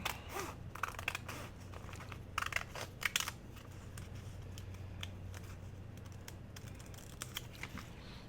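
Cardboard box being cut and folded while making a journal: soft snips, crinkles and crunches of stiff board, with a denser cluster of cuts early on, over a faint steady hum and no talk.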